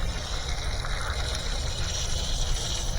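Water gushes steadily from an outdoor spigot at a house on a well being shocked with bleach, a constant close rushing splash that holds at the same level throughout.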